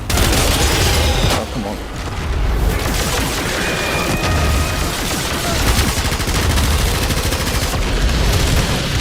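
Rapid automatic gunfire from the Warframe video game, loud and sustained almost without pause, with a short break and a brief spoken exclamation near the start.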